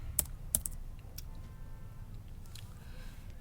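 A few quick, light keystrokes on a computer keyboard, close and quiet, come in two short clusters near the start, with fainter taps following over a low, steady room hum.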